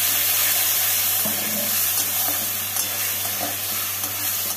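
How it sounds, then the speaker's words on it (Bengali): Spice paste sautéing in a pan with a splash of hot water, for a Bengali soya chunk and cabbage dish, gives a loud, steady sizzle broken by scraping stir strokes throughout, with no voices. "এবারে মশলাগুলোকে ভালো করে কষিয়ে নেব"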